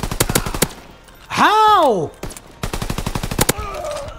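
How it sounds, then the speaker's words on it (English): Shotgun blasts in an online multiplayer gun video game ring out as sharp, loud repeated bursts, interrupted midway by a rising-and-falling whine, with a player talking briefly over the action. "This guy's trying to kill me with a shotgun from, like, 40 feet away."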